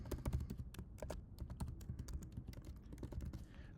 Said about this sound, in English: So you'll type in your email here.